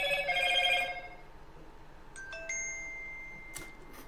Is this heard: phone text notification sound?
yes